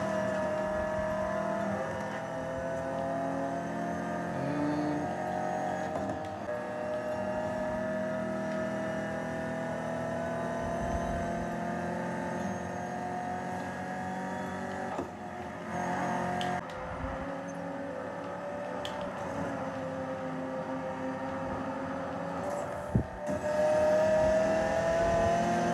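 Racing video game engines from a Lamborghini and a Porsche play through a smart 4K projector's built-in speaker, a steady continuous roar with gear-shifting pitch changes and no talk over it.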